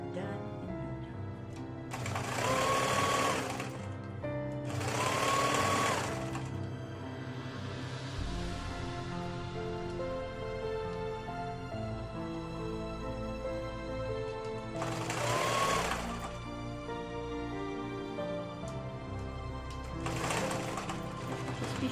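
A sewing machine stitches a double drain bag pillow in four short, loud whirring runs separated by quieter stretches of handling.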